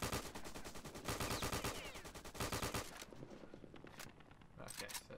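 An MP42 submachine gun fires in Return to Castle Wolfenstein. Rapid, steady automatic bursts rattle for about three seconds, then give way to shorter, sparser shots. A voice is faintly present beneath.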